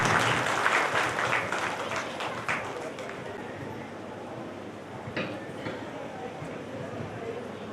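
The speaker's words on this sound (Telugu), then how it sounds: "ఒకసారి అందరూ క్లాప్స్ ఇవ్వండి సార్కి" Audience applause at a Togata Veera Kshatriya community gathering in Kurnool district during a Karthika month picnic festival: a burst of dense clapping that gradually thins out, with voices and scattered claps continuing.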